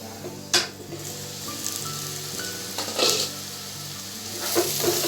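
Onions frying in a pan for Andhra-style chicken curry with salt and green chillies, a soft steady sizzle broken by a few scraping stirs and clinks of a utensil against the pan.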